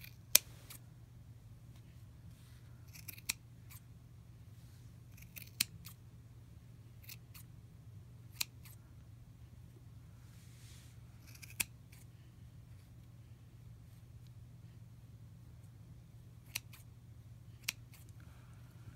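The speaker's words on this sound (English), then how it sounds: "you're just gonna carefully take your scissors, and you're just gonna cut the end of the loops" Scissors snip through yarn loops while making a pom pom, a series of sharp, isolated cutting clicks spaced irregularly over a quiet low hum, close and fairly faint.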